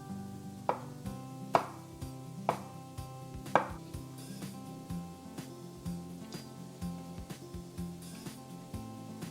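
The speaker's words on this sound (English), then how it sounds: "no burrito bowl is complete without some nicely sliced avocado" A knife slices avocado on a cutting board with a series of sharp, close taps at an uneven pace, some strokes louder than others, over a low steady hum with no speech.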